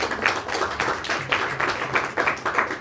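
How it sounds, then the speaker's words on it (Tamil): An audience at a Sunday church service claps to welcome a guest preacher, a steady run of rhythmic, moderately loud clapping lasting a few seconds. "அவர் கைத்தட்டி வரவேற்கிறார்"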